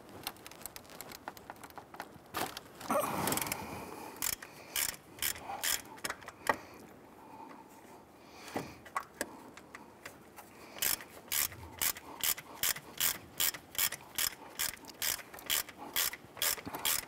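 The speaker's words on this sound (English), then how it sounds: "Now what we're doing is we're using a T50 Torx bit on the center here. Let's go ahead and loosen this." A ratchet with a T50 Torx bit loosening a center bolt during a water pump replacement on a 2005-2010 Chrysler 300, giving irregular bursts of quick clicking, then a steady rhythmic run of ratchet clicks, fairly faint and close.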